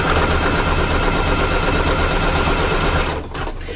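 An embroidery machine stitches cork in the hoop for a zippered pouch, giving a loud, rapid, continuous needle clatter close by that eases slightly near the end.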